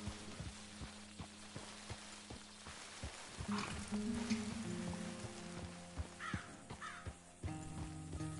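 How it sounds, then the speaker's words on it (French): Crows cawing in the open-world western game Red Dead Redemption 2, a few harsh calls rising over quiet ambient countryside with light pattering and soft background tones, fairly faint and distant. "Les oiseaux."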